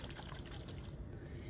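Copper sulfate solution being shaken in a flask of water makes a close, quiet liquid swishing and sloshing that goes on without a break over a short span.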